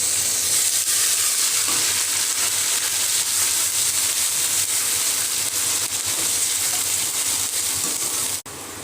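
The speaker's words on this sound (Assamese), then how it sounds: "এই মছলাখিনি এতিয়া মই অকণমান সময় ভাজি ল'ম" Cumin seeds and a coriander-and-chili paste fry in hot oil for an Assamese dish, giving a steady, loud, close sizzle that holds evenly throughout with no talking.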